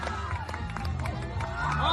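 A crowd at a main-stage event claps, cheers and screams continuously, a dense, loud wash of noise with voices mixed in that rises toward the end.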